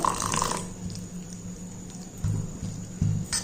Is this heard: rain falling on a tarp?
no